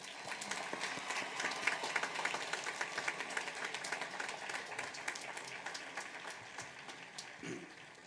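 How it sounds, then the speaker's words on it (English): Sustained applause from a large crowd at a high school graduation, steady dense clapping that gradually fades toward the end. "Let's give these students a round of applause."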